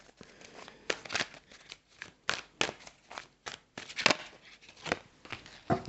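Cards being shuffled and snapped in quick irregular bursts, close up and crisp, with short pauses between riffles.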